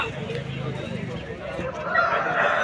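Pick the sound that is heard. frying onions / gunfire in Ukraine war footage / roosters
roosters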